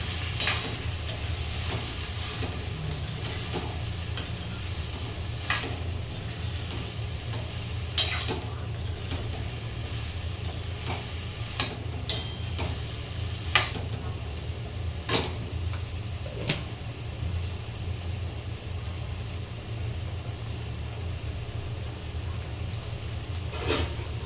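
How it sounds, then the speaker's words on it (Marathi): Pots and pans clatter and clink in a home kitchen while cauliflower bhaji cooks, sharp scattered knocks over a low steady hum and faint sizzle. "खडखड आवाज येतो नसेल भांड्यांचा, तो भांड्यांचा आवाज हा येतोच."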